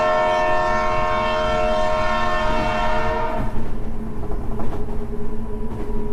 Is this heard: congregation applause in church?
no